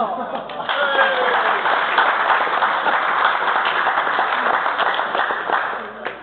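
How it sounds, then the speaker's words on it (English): Sustained applause from a crowd at a wedding during the groom's speech, many hands clapping in a dense, even patter that carries on for several seconds before tapering slightly. "I think you deserve a special round of applause"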